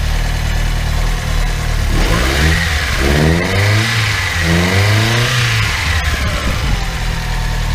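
A Chevrolet Celta engine with a freshly restored alternator runs close by, idling and then revving up and down in smooth swells, with a steady mechanical hum underneath and no voices.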